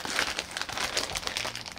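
Plastic bag crinkling as it is pulled off a VR-Box headset package, a steady close rustle running for about two seconds with no talk.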